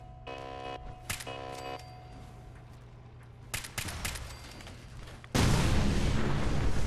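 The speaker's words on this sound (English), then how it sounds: "lots of explosions that didn't need to be explodings" Explosions and gunfire in the video game Fallout 4: scattered sharp bursts and booms with brief tonal game effects, then a sudden loud, sustained blast of noise at the end.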